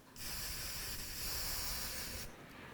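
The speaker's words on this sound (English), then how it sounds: "So I am now going to spray paint this thing" A taped miniature cymbal gets a steady, loud hiss from a spray paint can, one continuous burst of about two seconds with no voices, cutting off cleanly.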